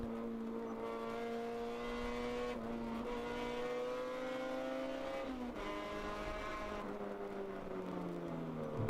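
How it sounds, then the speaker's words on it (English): Endurance race car in the ChampCar 12-hour enduro at VIR South, heard onboard as the engine note drops in steady downshift steps under hard braking into a corner, loud and continuous with no talk. "Braking hard, heading down into what looks like Oak Tree."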